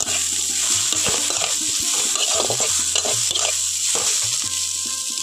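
Egg, onion and thinly cut potato are stirred in a hot frying pan, with steady sizzling and repeated scraping strokes of a spatula close by, and no one speaks.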